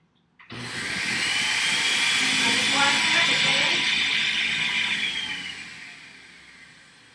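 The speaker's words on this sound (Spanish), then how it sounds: "Entonces esto se agrega, se coloca en la licuadora." A kitchen blender whirs steadily for about six seconds, blending a hot matcha drink made with hot water, lid on; a loud, continuous motor-and-liquid roar that starts abruptly and tapers slightly at the end.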